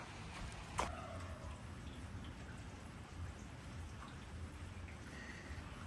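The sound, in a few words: heavy rain falling on a farm during Hurricane Beryl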